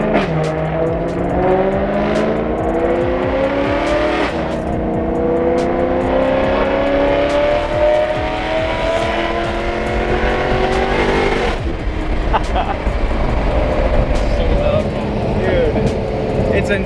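A supercharged BMW E92 M3 revs hard and close, its engine note climbing in repeated rising sweeps with a rough, loud exhaust roar and a brief drop before pulling up again, with voices faintly underneath.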